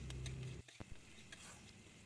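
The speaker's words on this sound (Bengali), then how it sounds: "দেখছেন কত সুন্দর আমি মশলাটা কষে নিয়েছি, পাশ থেকে কিন্তু সুন্দর করে তেল বেরিয়ে আসছে।" Spice paste fries in oil for a puti fish tel jhal, giving a faint, low sizzle with a few quiet taps and scrapes of stirring near the start.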